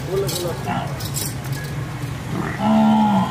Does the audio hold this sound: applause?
no